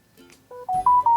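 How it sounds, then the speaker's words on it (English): A wireless door alarm converted into a sump pump water-level alarm sounds a short rising chime, three loud clear tones in quick succession. "I trigger alarm again."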